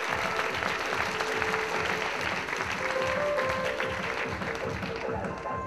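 Audience applause at a university civil engineering graduation ceremony, a sustained burst of hand clapping from a large crowd with no speech over it.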